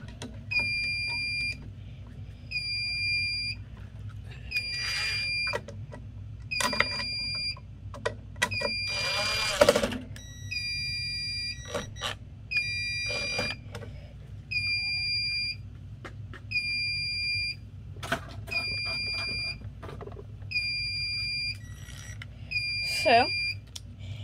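Fire alarm sounding after a BG-12LX pull station is tested, a steady series of repeated high electronic beeps in a regular rhythm, moderately loud, with a person talking in between.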